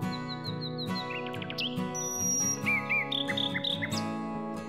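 Bright bird chirps and tweets in quick bursts ring out over a sustained tonal, music-like background.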